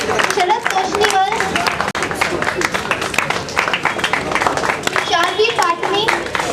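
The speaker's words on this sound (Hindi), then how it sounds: "बच्चों का तालियों के द्वारा उत्साहवर्धन करते रहिए" Audience applause for children at a Safe Deepawali competition event, steady clapping throughout with a voice and other speech mixed over it.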